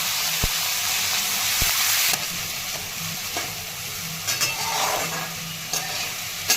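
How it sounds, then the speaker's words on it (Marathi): Dried guar beans are tossed into oil with cumin, mustard seeds and garlic, sizzling loudly and close, with a few sharp spatula knocks and stirring scrapes over a steady hiss. "तेलामध्ये जिरे मोहरी आणि लसूण छान परतून आहे आणि त्यामध्ये आता गवारी शेंगा टाकल्या"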